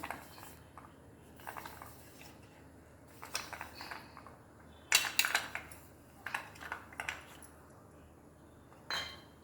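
Oiled metal idli steamer vessel clinks and clatters as leaf rolls are set inside, a scattered run of light metallic knocks and scrapes, close and fairly quiet, with no talking.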